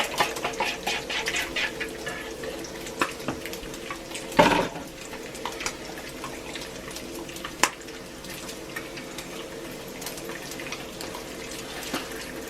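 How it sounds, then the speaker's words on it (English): Pancake batter ingredients being whisked in a bowl, a continuous close wet scraping and swishing with scattered clinks of the whisk against the sides. "Whisk up the ingredients."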